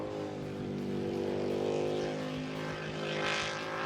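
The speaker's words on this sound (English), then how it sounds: "And it just sounds awesome as it zooms its way around the pond." A jet sprint boat powered by a 6-litre LS3 engine races around a pond, its loud, sustained engine roar holding steady with rising and falling whine as it speeds through the course.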